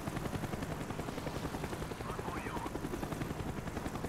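In the game Call of Duty: Black Ops, a helicopter's rotor thumps rapidly and continuously in a dense, pulsing drone, with faint game sound effects layered over it.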